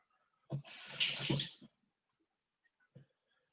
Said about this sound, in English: let me rinse the soap off on the inside